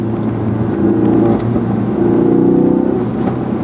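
A Ford Focus RS engine accelerates on an evening road drive, the in-car drone swelling in two rising pulls with a dip between, loud and close with no talk over it.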